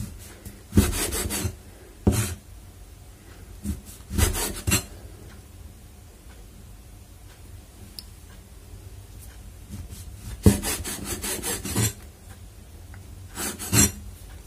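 A knife slices wonton wrapper dough into strips on a cutting board, making short bursts of crisp chopping spaced out by quiet pauses, close up with no talking.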